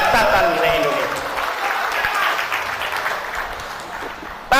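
A large crowd applauds steadily at an Indonesian religious-political lecture, a dense, continuous wash of clapping, with a speaker's voice audible over it.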